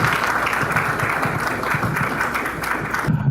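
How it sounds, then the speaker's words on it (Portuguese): Steady applause from an audience at an evening business talk in Brazil, welcoming the speakers onto the stage; dense clapping fills the whole stretch at an even level, with a brief dip near the end. "Uma salva de palmas"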